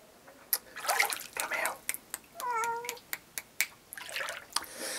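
A domestic cat meows near a garden pond, the short rising-falling call sounding once at mid-distance amid clicks, splashy rustling and a person talking.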